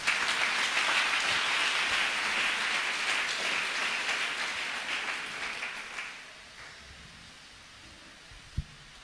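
A church congregation bursts into sustained applause for the Holy Spirit during a marriage conference, a dense, even wash of clapping that holds steady for about six seconds before fading out to quiet, with one sharp knock near the end.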